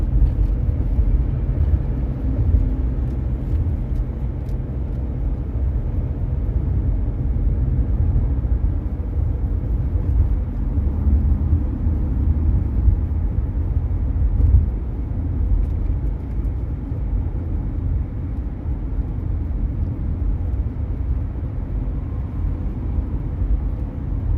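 A car drives through Loomis with a steady low road rumble and engine drone. The noise holds constant and fairly loud throughout, with no talking.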